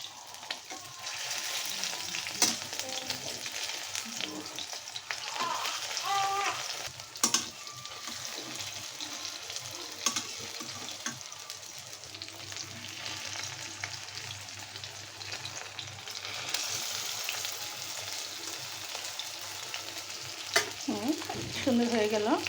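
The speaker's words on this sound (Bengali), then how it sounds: "বড়াগুলো আমার এক পিঠ ভাজা হয়ে গেছে" Kachki fish fritters sizzling in oil as they are turned one by one, a steady close crackle broken by scraping spatula strokes and occasional clatter against the pan.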